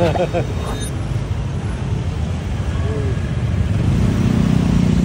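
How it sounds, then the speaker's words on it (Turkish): Busy street traffic in Ubud, Bali, a steady low rumble of cars and motorbikes passing close by, with an engine rising toward the end and people talking over the road noise. "Buralarda trafik deli akıyor arkadaşlar."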